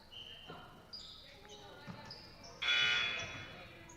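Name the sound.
buzzer going off in gym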